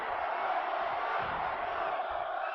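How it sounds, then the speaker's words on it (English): A WWE 2K24 wrestling arena crowd chants in a steady, dense roar that holds evenly throughout, with no commentary over it. "The crowd are chanting one more time."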